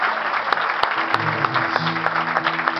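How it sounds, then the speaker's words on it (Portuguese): Scattered clapping rises from a church congregation while a low sustained organ or keyboard tone hums beneath it, with a few sharp, distinct claps punctuating the steady patter. "Se puder dar ali uma salva de palmas."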